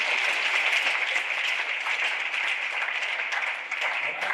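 A crowd claps steadily in dense, sustained applause that fills the whole stretch without pause.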